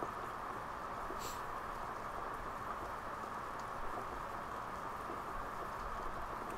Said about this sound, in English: You know, cause it's raining outside.